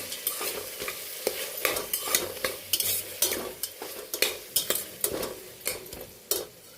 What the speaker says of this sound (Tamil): இந்த இஞ்சி பூண்டு பேஸ்ட் வந்து பச்சை வாசனை போகிற வரைக்கும் இதிலையே ஃப்ரை பண்ணி